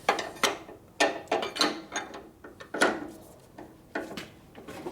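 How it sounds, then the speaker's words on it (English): A torque wrench ratchets on bolts of a 1950s Harley-Davidson panhead motorcycle, giving short bursts of clicking in an irregular rhythm, close by and with no talking. "Now we pull out the torquer."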